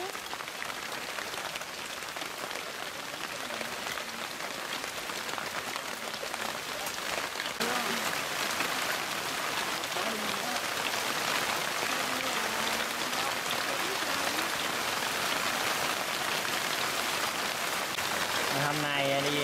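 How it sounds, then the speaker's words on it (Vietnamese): Heavy rain pouring outside a rural home at the start of the rainy season, a continuous hissing patter that holds steady throughout while people talk faintly underneath. "Ở ngoài trời mưa rất là lớn, đây mới có đầu mùa mưa thôi."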